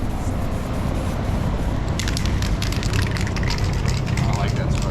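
A spray paint can hisses onto a wheel being restored, starting as a soft background wash and turning into a dense, loud spitting spray in short bursts for the second half.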